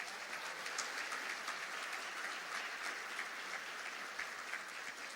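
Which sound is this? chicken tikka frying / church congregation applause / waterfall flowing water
church congregation applause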